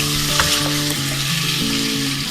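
Chicken gravy for Pakistani haleem frying in a pot, a loud continuous sizzle and crackle with occasional stirring scrapes, while tonal background music plays underneath.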